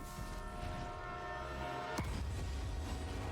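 A train in the Marvel's Spider-Man 2 video game rumbles steadily with a sustained horn-like tonal drone, then a sharp braking screech cuts in about two seconds along before the low rumble carries on.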